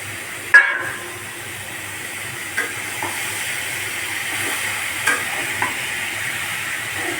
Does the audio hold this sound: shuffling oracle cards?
no